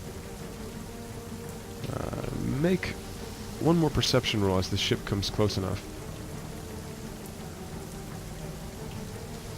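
Steady heavy rain hisses throughout a tabletop fantasy session's ship scene, a constant soft wash under someone speaking in the middle of the stretch.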